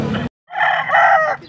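An 11-month-old rooster at a poultry sale crows once up close, loud and drawn out, following a brief burst of other noise and a short silence.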